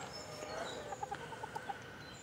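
Hens in a backyard flock give a short run of soft, quick clucks at a middle distance over a quiet outdoor background.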